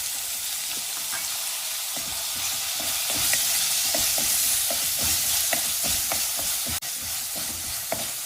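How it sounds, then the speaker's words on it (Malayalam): Chopped tomatoes fry in a pan with ginger and garlic, a continuous bright sizzle with repeated scraping stirs every half second or so, close and steady, no voices. "അതിലേക്ക് ചെറുതായി അരിഞ്ഞിരിക്കുന്ന തക്കാളിപ്പഴം ചേർക്കാം."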